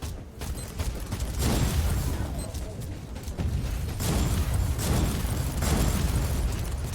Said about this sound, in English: Somebody dropped turrets on me.